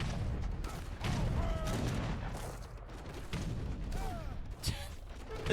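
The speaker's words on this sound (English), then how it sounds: "my ears are just being spammed with cannon shots" Rapid cannon fire from Age of Empires III battles, with culverins firing paired shots: dense overlapping booms and thuds pile up continuously, and a voice talks over the barrage throughout.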